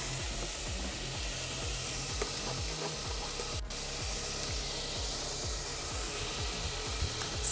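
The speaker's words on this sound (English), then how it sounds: "Sizzle, lots of sizzle." Goulash sizzles and fries in a pan, a constant crackling hiss with occasional stirring scrapes, close and moderately loud with no talking.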